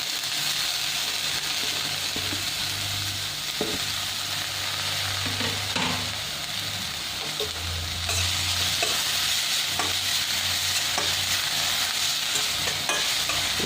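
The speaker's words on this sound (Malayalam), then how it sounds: "ഈ മുരിങ്ങയുടെ ഇല അതിലേക്ക് ഇടാം" Chopped moringa leaves sauté in a hot pan with a loud, continuous sizzle, broken by occasional spatula scrapes and taps as they are stirred; no one speaks.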